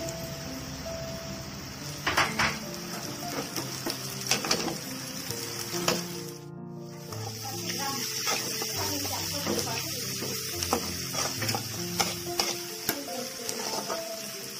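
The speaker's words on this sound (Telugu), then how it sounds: "ఆనియన్స్ ఆల్మోస్ట్ వేగుతున్నాయి కదా ఇప్పుడు పచ్చిమిర్చి" Onions and green chillies sizzling loudly in oil in a pan, with repeated scraping strokes from stirring and a brief clatter midway.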